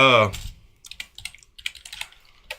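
Fingers type on a computer keyboard, a run of irregular, light clicks and taps at close range, following a brief voice at the very start.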